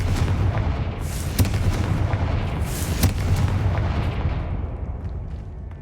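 A fire spell goes off in Hogwarts Legacy, a game, as a dense, continuous rumbling blast with sharp bursts layered over it. It stays loud throughout and fades slightly toward the end.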